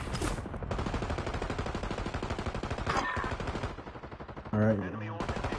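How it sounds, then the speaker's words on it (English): Rapid automatic gunfire from a multiplayer shooter video game, dense continuous bursts with a brief lull, while a player speaks a word over it. "We're gonna shoot at them."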